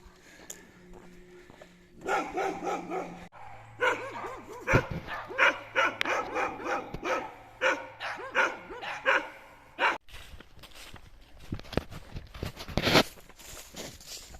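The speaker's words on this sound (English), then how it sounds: "Really angry dogs." Several dogs bark aggressively along a road walk on the Pinhoti Trail in Alabama, in loud, rapid bursts close by, with brief pauses between volleys and occasional whimpering.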